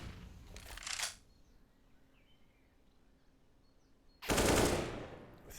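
MP9 gunfire in a competitive shooter match comes as two rapid automatic bursts, a short one near the start and a longer, louder burst after a quiet pause.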